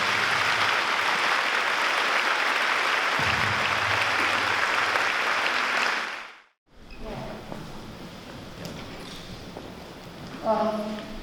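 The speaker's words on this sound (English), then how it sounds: "Let's give a round of applause to Dr. Yard." Audience at a community presentation on drugs and alcohol claps for a guest speaker, dense sustained applause that fades out after about six seconds, followed by quieter room noise and a voice starting to speak.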